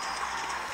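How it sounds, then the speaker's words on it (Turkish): Hog Rider card arriving in the mobile battle game Clash Royale, a brief burst of hoofbeat-like clip-clop with game effects, steady and fairly loud throughout, no talk. "Domuz birincisi geldi."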